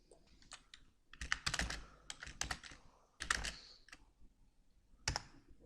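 Typing on a computer keyboard comes in bursts of quick, crisp clicks with short pauses and a final lone keystroke, close and fairly quiet.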